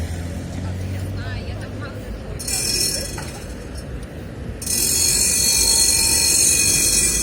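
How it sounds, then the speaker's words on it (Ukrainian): A tram passes on a city street in Lviv. A low, steady rumble builds into loud, high metallic wheel squeal that grows stronger as it goes by. "Трамвайчик."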